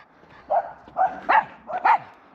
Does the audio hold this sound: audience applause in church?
no